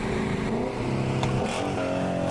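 A car fitted with an IS38 turbo on a 93 tune accelerates hard during a run, engine rising steadily in pitch through the gears, loud and close from inside the cabin.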